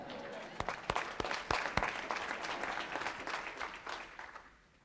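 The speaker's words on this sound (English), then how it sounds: "Stand up and give this man a round of applause." An audience breaks into applause, a dense wash of many hands clapping with a few sharp louder claps early on, sustained throughout and tapering slightly at the end.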